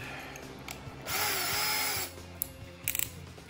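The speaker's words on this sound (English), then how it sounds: "I don't wanna drill into that side piece" A power drill whirs for about a second at high speed, drilling into wood for a quail cage, preceded and followed by quieter handling clicks and taps nearby.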